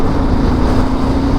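A BSA Goldstar motorcycle pulling at speed on the road, a loud steady engine drone with a low constant hum mixed into heavy wind rush, unbroken throughout.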